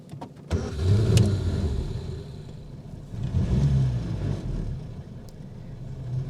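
A 1950s Austin A40 Somerset's 1.2-litre engine cranks on a pull start and catches, then settles into a steady, rumbling idle close by, with a brief mechanical click near the start.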